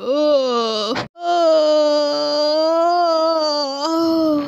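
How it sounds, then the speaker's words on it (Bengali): A long, loud, drawn-out vocal yawn close by, breaking briefly before stretching into a second sustained groaning breath. "আহ, কি হাই উঠছে আমার"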